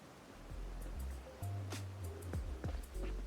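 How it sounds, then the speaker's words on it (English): Low, steady rushing water of a wide, placid, polluted river running through Kanai Ward in Master Detective Archives: Rain Code, a soft continuous flow with occasional faint splashes, fairly quiet. "the large river running through Kanai Ward"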